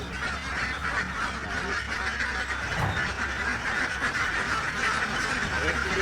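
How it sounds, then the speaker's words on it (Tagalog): A crowd of ducks quacks continuously in a steady, busy chorus, with outdoor background noise and a voice speaking now and then. "Pato."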